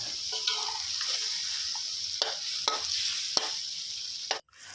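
Pork rib curry with pickled bamboo shoots is stir-fried in a pan, giving a steady sizzle with scraping stirs and occasional clinks of the spatula, and no talk.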